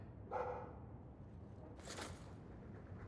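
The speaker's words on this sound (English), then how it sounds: "That's a good dog." A dog barks in the video game Dragon Age 2, one short bark followed by a second muffled bark-like burst, faint and set against a quiet game background.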